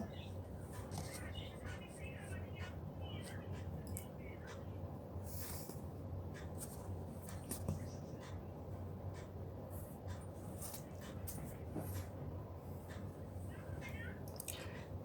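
A pen scratches across paper while a table is ruled and drawn for a Class 9 math lesson, giving faint, intermittent scraping strokes under a teacher's quiet speaking voice.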